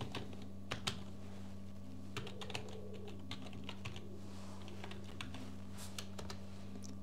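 Sparse keystrokes on a computer keyboard as a bot username is typed, scattered light clicks in uneven bursts over a steady low electrical hum, with no talking.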